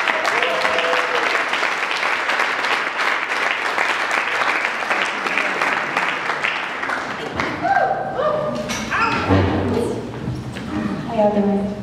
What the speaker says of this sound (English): If you can please welcome her with a warm, loud round of applause for Jessica Cornejo.